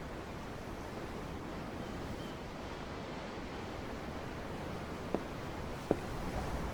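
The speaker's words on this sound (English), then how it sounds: "I'm looking at the ocean." Ocean waves in the video game Tales of Arise wash in a steady, even surf, heard from aboard a ship, with faint clicks late on and no talk.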